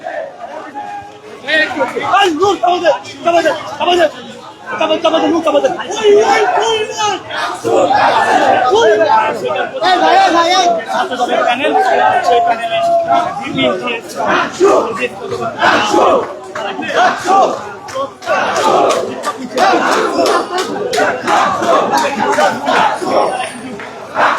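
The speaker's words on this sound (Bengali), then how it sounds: "তারা কিন্তু উত্তপ্ত হয়েছে এবং জাতীয়বাদী দল এই মুহূর্তে বিক্ষোভ মিছিল করছে" A student protest march at Dhaka University, with a large crowd chanting slogans and shouting in rhythmic bursts, close and loud throughout, with chatter mixed in.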